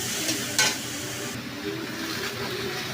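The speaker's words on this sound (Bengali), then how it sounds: "ভাজা ভাজা করে কাটুয়ার ডাটা দেবো।" Constant close sizzling of katoa vegetable stalks frying in a pan with chili paste, with a couple of quick spatula scrapes early on.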